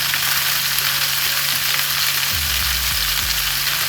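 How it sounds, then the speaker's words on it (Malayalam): Okra masala frying over full heat in a pan after salt goes in, giving a loud, continuous close sizzle, with a few soft low knocks from the pan toward the end and no speech. "ഒന്ന് വഴറ്റി എടുക്കാം"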